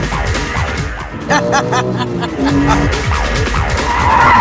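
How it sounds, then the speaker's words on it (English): Porsche 911 GT3 held in a long slide, tires squealing in sustained, wavering howls over the loud engine note, close and continuous throughout. "You can put it where you want it and then hold it in huge slides."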